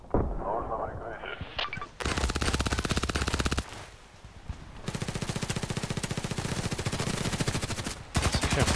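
Glock 18 pistol fire in the video game Contract Wars, dense rapid bursts of full-auto shots in long strings, loud and close, with short pauses between bursts.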